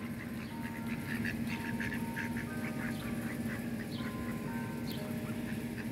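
A flock of ducks quacks repeatedly on a Sunday morning at a lake, overlapping calls at moderate distance over a steady low hum, with no voices.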